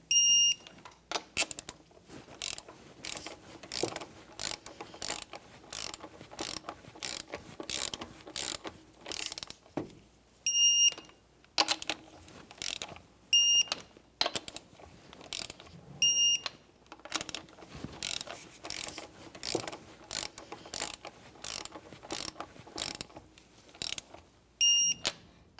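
Lug nuts on the alloy wheels of a 2010-2023 Toyota 4Runner are tightened in a star pattern after the vehicle is lowered. Quick ratcheting clicks come in repeated bursts over about 25 seconds, with short gaps and occasional sharp high pings, close up and without speech.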